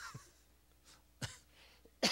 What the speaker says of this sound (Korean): 죄송합니다, 제가 자꾸 기침을 해서.